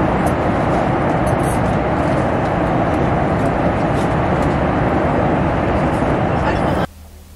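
A loud, steady roar of an airplane in flight, a constant dense rumble with no break, ending abruptly near the close.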